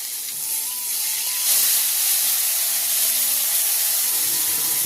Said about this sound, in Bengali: যে মশলাটা আমি মিক্সিতে বেটে রেখেছিলাম ওটা তেলের মধ্যে দিয়ে দিচ্ছি।